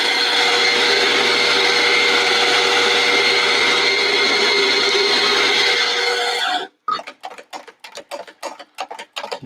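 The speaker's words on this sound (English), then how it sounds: "We're going to start to grind." A coffee grinder grinds beans in a loud, steady whir for about six seconds, then stops and is followed by a run of rhythmic taps and knocks.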